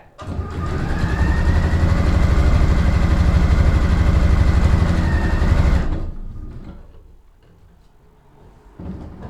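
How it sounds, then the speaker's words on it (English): A sewing machine runs a steady straight stitch up a fly front zipper, a loud continuous whirring hum for about six seconds that stops abruptly, leaving quiet handling noises afterward. "I'm going to sew the whole way up"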